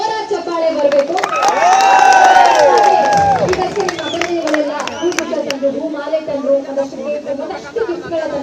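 Loud crowd at a birthday celebration for actor Daali Dhananjaya, with dense chatter, whistles and cheering swelling over the first few seconds, then steady clapping and voices continuing underneath.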